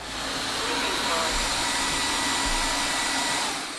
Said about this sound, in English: We can simply pick it up, clean the floor, wet or dry, and it is able to pick up all that